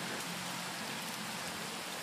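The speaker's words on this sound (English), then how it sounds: "The rain's got a bit lighter, but we're on our way back now." Steady rain falls outdoors on a dog walk, a dense, even hiss of drops hitting the ground with no other clear sounds.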